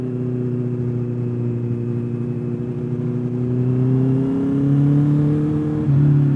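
A Honda CB650R four-cylinder motorcycle with a loud aftermarket exhaust, its engine note climbing steadily as it revs and accelerates close by, then settling into a louder, higher drone toward the end.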